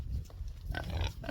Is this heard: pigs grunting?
yes